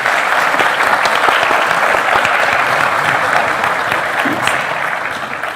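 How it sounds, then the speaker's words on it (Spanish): Hall audience at a university lecture gathering applauds steadily and loudly after a presentation, a dense, even wash of clapping that continues throughout without pause. "Un aplauso."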